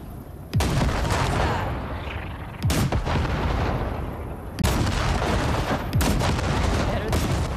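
Heavy weapon fire from blasting wrecks in Cyberpunk 2077, several loud booming shots spaced a second or two apart, each followed by a sustained roaring rumble.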